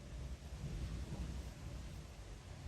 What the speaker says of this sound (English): That's not ghost, that's the storm rolling in.